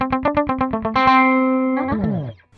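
An Eventide Rose delay pedal set to half wet and half dry: a quick run of repeated, distorted guitar-like notes gives way to a sustained held tone that smears into swirling, pitch-bending echoes before cutting off.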